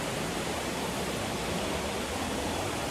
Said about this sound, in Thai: อันนี้ก็น้ำตกแม่คำปองนะครับผม